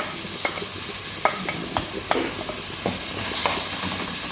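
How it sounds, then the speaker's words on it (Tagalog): Onions added to hot oil in a pan to sauté for a monggo and squash dish, a steady sizzle with scattered clinks and scrapes of a stirring utensil, close and alone. "ilagay na natin ang ating sibuyas na napakarami"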